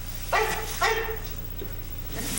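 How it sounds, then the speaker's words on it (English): Dog barking indoors in a sitcom scene, two short clear barks close together followed by quiet room tone. "look! It's Spot, the dieting fire dog."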